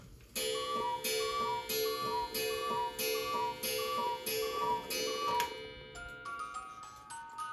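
A cuckoo clock gives a steady, evenly spaced series of close, bright metallic ticks with ringing tones, the pattern shifting into quicker, busier clicks toward the end, with no talk.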